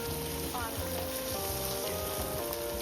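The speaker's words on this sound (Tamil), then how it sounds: "கத்திரிக்காய் நல்லா வேகணுங்க, நல்லா வதங்கணும்" Brinjal pieces sautéing in a pan give a steady, dense sizzle throughout, with a voice talking over it and some faint tonal background sounds.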